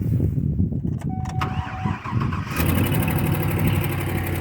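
A pickup truck engine cranks over briefly and catches, then settles into a steady, loud idle close by, with no talking.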